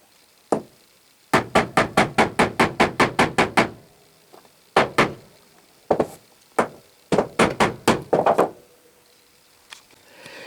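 Sharp metallic blows of a 16-ounce ball peen hammer driving a pin on a steel bench block strike in quick rhythmic bursts, a run of about a dozen rapid taps followed by shorter groups, loud and close.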